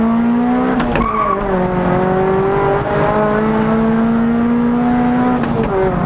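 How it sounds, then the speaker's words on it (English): Car doing a braking drift and handbrake drift up a hill road, with a straining engine holding steady tones, then a sudden shift and squealing tires around the corner, loud and close. "we'll use the technique of braking drift into the corner, and then handbrake to get us out of the corner"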